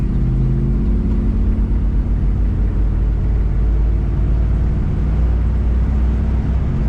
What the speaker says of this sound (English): This car starts and runs really good